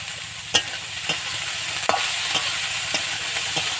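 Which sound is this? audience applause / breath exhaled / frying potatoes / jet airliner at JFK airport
frying potatoes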